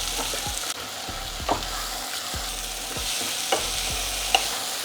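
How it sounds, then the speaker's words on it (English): Tomatoes with salt sizzle steadily in a hot pan, a soft continuous frying hiss broken by several scraping stirs of a spoon at irregular intervals, close and fairly quiet with no talking. "we need to cook the tomato until it turns soft"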